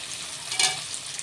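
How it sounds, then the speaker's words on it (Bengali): Chopped tomatoes tip into a pan of browned, salted onions and fry with a soft, steady sizzle, flaring briefly louder as they hit the hot oil. "এবার এর মধ্যে দিলাম টমেটো"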